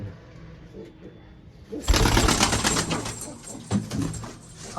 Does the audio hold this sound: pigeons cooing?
yes